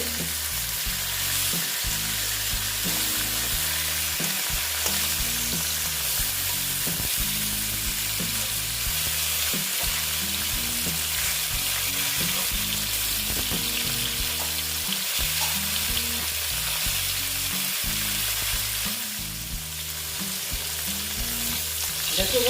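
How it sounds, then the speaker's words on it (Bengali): Ash gourd pieces fry loudly in oil with a dense, continuous sizzle and occasional stirring, while faint rhythmic music plays underneath throughout. "প্রায় ভাজা হয়ে গেছে"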